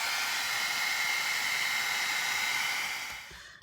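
A heat tool blows steadily on wet mixed media paint, a loud continuous whooshing hiss that runs evenly before winding down and cutting off at the end.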